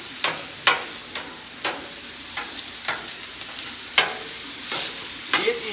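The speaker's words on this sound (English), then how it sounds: "Kind of create as much surface area as possible for the meat to cook on the grill." Ground meat being broken up with a spatula on an outdoor grill in the heat, a steady sizzle punctuated by regular scraping taps of the tool against the cooking surface, close and continuous.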